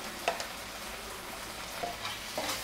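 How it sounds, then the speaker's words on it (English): Ginger garlic paste gets stirred into a hot pan for a cauliflower and peas bhaji, soft sizzling under a few close scraping spoon strokes and light clinks. "just added good amount of ginger garlic paste. And give it a good mix."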